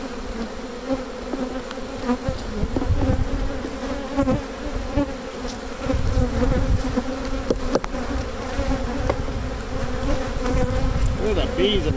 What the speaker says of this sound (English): Look at the bees in this thing.